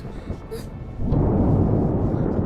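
Thunder rolls through a storm in a Hindi-dubbed action thriller, a deep, loud rumble that swells up after a second and keeps roaring with broad noisy energy.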